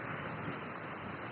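Steady rain falling in Gazipur, Bangladesh, a soft, even hiss heard alone without pauses or voices.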